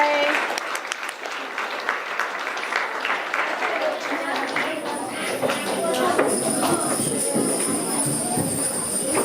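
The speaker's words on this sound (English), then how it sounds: "let's give them one round of an applause again" An audience at a Hmong culture celebration gives a round of applause to young fashion show performers, steady crowd clapping that continues while voices talk over it.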